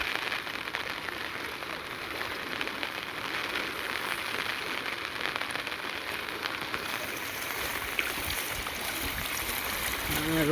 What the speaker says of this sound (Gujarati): નાલાનું પાણી આવે સીધું તળાવમાં